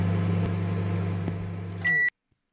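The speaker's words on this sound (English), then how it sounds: "Good microwave so far." A convenience store microwave oven hums steadily up close, with a couple of faint clicks, then a loud sustained beep before it cuts to silence.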